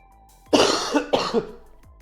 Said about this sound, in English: I'm already coughing up gunk already